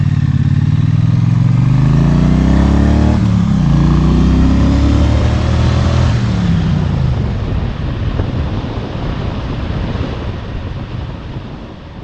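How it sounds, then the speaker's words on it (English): A Triumph Bonneville twin, Street Twin or T100, rides by with a low exhaust burble whose pitch rises and falls as it accelerates, loud and close under heavy wind rush. "the sound from either bike is a low-pitched burble that is very pleasant, practically musical, and a joy to listen to while you're riding"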